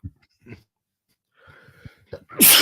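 A single sharp sneeze bursts out near the end after quiet breathy sounds, close and loud.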